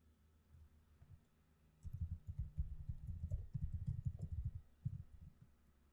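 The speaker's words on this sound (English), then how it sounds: "I'm clicking Garland's link here" A computer mouse clicks through links in quick irregular bursts, close and fairly quiet, with a pause before a busy run of rapid clicks and a couple of later taps.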